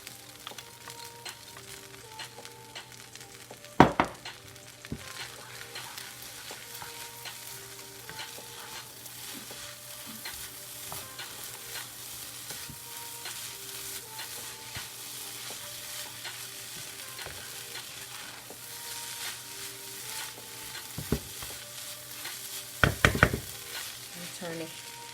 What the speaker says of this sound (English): I'm going to go ahead on and stir in 1 cup of peas and carrots.